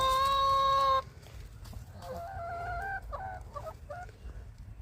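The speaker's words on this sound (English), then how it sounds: "Charcoal, Coco, both roosters." Two roosters in a backyard chicken flock cluck and call nearby, opening with a loud sustained crow-like note followed by several shorter, choppy clucks and murmurs, with no talking.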